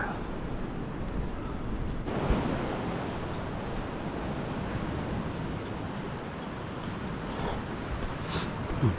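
Waves washing onto a private beach in Goa, a steady broad rushing surf with wind buffeting the microphone, continuous and moderately loud with no voices.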